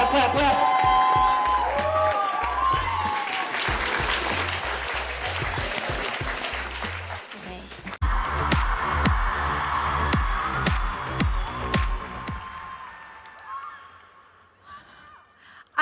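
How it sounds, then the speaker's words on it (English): Applause and cheering from an audience during a yoga class session, loud and continuous with music and voices mixed in, fading toward the end. "Put your hands together, make a lot of noise for Miss Popcorn"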